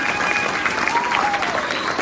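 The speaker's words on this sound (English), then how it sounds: "Give her another round of applause, please." An elementary school audience at an oral language festival gives a contestant a round of dense, sustained applause that stays loud and continuous, with a faint thin tone drifting underneath.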